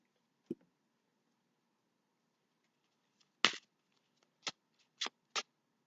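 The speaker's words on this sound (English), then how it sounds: "Let's start shuffling" A new tarot deck being shuffled gives a few sharp, isolated riffling snaps separated by near silence, close and crisp, clustered toward the end.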